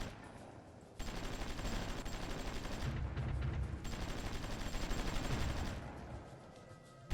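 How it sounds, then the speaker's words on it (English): Sustained battle gunfire from the fight around Berlin in the Supreme Ruler Ultimate strategy game, a dense crackle of distant rifle and machine-gun fire with low rumbling bursts, steady for several seconds and fading near the end. "it's the battle around Berlin that we're hearing over there"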